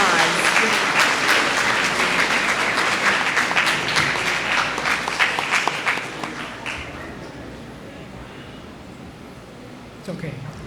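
A school audience claps for graduating seniors at a scholarship awards ceremony, loud dense applause filling the room for several seconds before tapering off, followed by a faint voice near the end.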